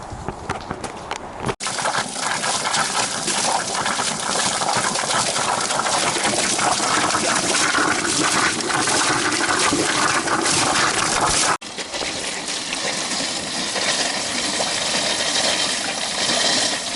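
Water gushes loudly and steadily while being poured during maintenance work on a 1993 GMC Sonoma work truck, a continuous rushing flow broken by two brief stops.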